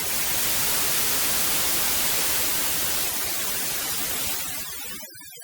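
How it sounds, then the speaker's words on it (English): Broadband white noise from a synth oscillator run through a spectral gate plugin, a steady loud hiss filling the whole range before thinning and cutting out abruptly near the end. "if I get a white noise from just 3x oscillator and run that through a spectral gate"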